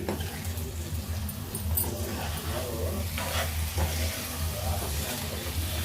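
A spoon mixes okra and egg tamarind curry in a pan, with soft scraping and stirring over a faint sizzle, steady and moderately quiet throughout.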